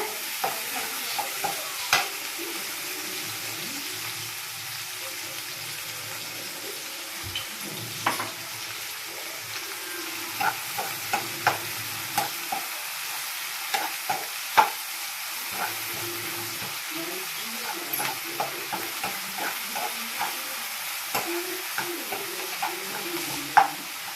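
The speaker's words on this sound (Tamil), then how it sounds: "இப்போ பெரிய வெங்காயம் போட்டுக்கலாம் நல்லா வதக்கிக்கோங்க" Sliced large onions sauté in a pan for a pepper tomato curry, with a soft, steady sizzle broken by frequent scraping clicks of a spoon stirring them.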